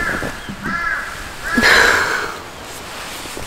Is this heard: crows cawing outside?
yes